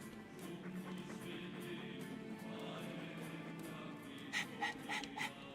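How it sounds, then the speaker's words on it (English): A dog in the Dragon Age 2 video game pants rapidly and continuously, a close, steady rhythm of quick breaths with a few sharper huffs near the end. "All that noisy dog breath, day in, day out."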